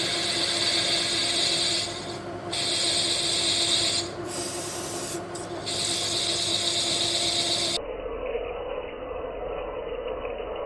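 A drill cuts through a bore on a Bridgeport milling machine, a steady harsh grinding rasp that drops out briefly twice and thins near the end.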